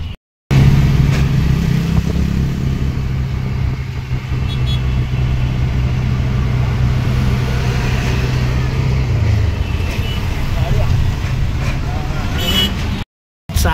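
Auto rickshaw being driven through Mumbai-area traffic, its steady engine drone running close and continuous for most of the stretch, with brief gaps at the start and end and some talk over it.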